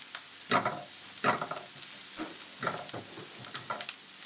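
Garlic frying in a pan for pineapple chicken, a soft steady sizzle broken by several louder bursts of stirring and scraping, close and fairly quiet, with no one talking.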